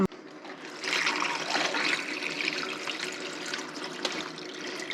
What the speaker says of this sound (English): we're going to dump our brine into our bag here.